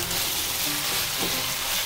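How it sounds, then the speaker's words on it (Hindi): Vegetable manchurian mixture frying in a pan, a steady close sizzle with soft hissing and faint stirring, alone without talk. "थोड़ी देर इसे फ्राई करना है"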